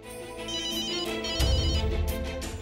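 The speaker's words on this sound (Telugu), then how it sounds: "బుల్బుల్ ఎందుకు ఫోన్ చేస్తుంది?" An incoming call sets off a phone's electronic ringtone, a steady melodic tone that rings on clearly with no talk over it.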